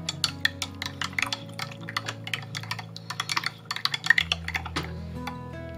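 A spoon stirs sour cream into a chicken mixture in a crockpot, making rapid, irregular clicks and clinks close by against a low steady hum, with no speech.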